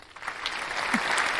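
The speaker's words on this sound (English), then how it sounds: "applause. There we go." A short burst of recorded applause played over a live game stream, dense clapping swelling slightly louder toward the end, brief and without voices.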